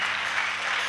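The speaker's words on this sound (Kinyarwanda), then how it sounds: "tugukomeye amashyi menshi" Congregation applause during a church service, a short, dense wash of many hands clapping at a steady, even level.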